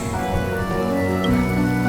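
Steady rain falls in the video game Honkai Star Rail, a continuous even hiss that holds throughout with a soft tonal backdrop beneath it.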